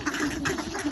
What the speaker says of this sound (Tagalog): Mga wild duck ba yung tawag dyan, te?